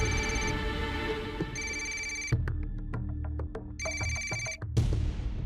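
A telephone rings in bursts of bright trilling electronic tones, separated by short gaps, moderately loud in an indoor room with no voices over it.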